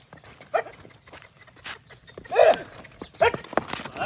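Hooves of a Kathiyawadi mare being trained to walk on two legs give a few irregular clip-clops with snorting or panting, close by, and a voice briefly in the background.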